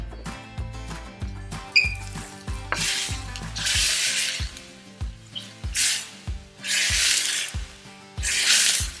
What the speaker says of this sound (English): we're just going to cook this down so it becomes a little thicker